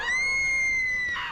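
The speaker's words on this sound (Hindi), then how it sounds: "उसे देखते ही राधिका चीखने लगी।" A girl in a Hindi horror story lets out a single sustained, high-pitched scream, loud and close, breaking off abruptly after about a second.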